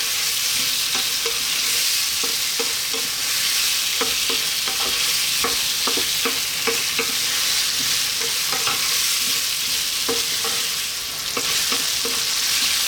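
Potatoes for a Bombay aloo dry-fry curry sizzle steadily in a hot pan, with repeated scraping stirs from a utensil clattering against the pan throughout, close and fairly loud, with no talking.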